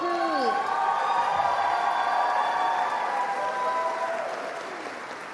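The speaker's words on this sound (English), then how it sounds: "applause for the Stevens Village Dance Group" Audience applause and cheering for the Stevens Village Dance Group at a Native arts festival, a dense sustained crowd roar with some whoops and voices over it, tapering slightly near the end.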